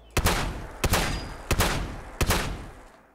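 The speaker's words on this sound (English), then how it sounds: "it allows you to shoot four times instead of twice before reloading" Four heavy gunshots from a weapon fired in Fallout 4 with the CROSS Cybernetics Exo-Frame mod, evenly spaced booming blasts, each trailing a long echoing decay.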